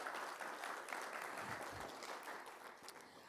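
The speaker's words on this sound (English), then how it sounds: "Please give them another round of applause." Audience applause after a session at an Eastern Cape Development Corporation event: steady, dense clapping fills the whole stretch at a moderate level, tapering slightly toward the end.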